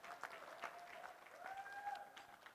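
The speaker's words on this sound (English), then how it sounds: "Let's give them a round of applause." A small crowd at a student laptop giveaway event applauds for the Zimbabwe Doves recipients, with faint, steady clapping that is quiet and a little distant throughout.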